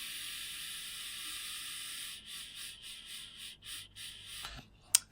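Air drawn through a Hurricane V2 rebuildable vape atomizer with single-sided airflow, a steady soft hiss that then breaks into several short pulsing draws, close and quiet, ending with a small click.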